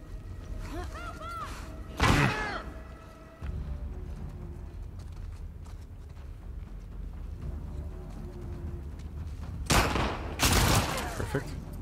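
Gunfire in The Last of Us Part 2 video game: two separate bursts of loud, sharp gunshots, the first near the start and the second toward the end, with quieter game ambience in between.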